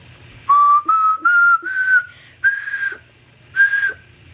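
A breathy, whistle-like homemade ocarina plays a rising scale of six notes, the first few in quick succession, the later ones spaced by pauses, each airy and clear.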